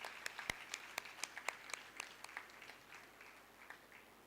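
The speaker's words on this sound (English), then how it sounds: "Let's give them a big round of applause." An audience at a college day ceremony claps in a short, sparse burst of applause that is fairly faint and tapers off toward the end.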